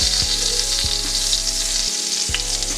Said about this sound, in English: we want a really good sear on our salmon